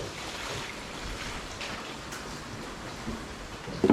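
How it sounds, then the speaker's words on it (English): Water pours steadily into a bucket while windows are prepped for work, a continuous close rushing splash that ends with a brief louder knock. "Right, so got some water. I'm gonna add that in."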